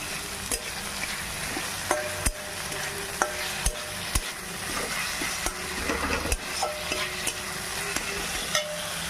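Ground spices stirred and fried in a pan for a dried fish chutney: a continuous close sizzle broken by sharp, irregular clicks and scrapes of the spoon against the pan, with no voices.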